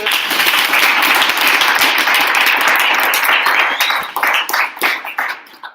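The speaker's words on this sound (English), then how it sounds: "Can we have a round of applause for the..." An audience at a design thinking meetup applauds steadily with dense clapping, then the clapping thins out and fades toward the end.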